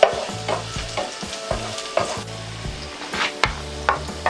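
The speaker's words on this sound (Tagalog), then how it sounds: "pwede na nating gisahin itong ating bawang" Garlic sautés in cooking oil while a ladle strikes and scrapes the pan in a repeating rhythm, each clank standing out over a bright steady sizzle, loud and close.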